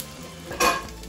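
Asparagus in a little oil at the bottom of a pan gives a low background sizzle, then a short, bright burst of scraping and hissing as it is stirred.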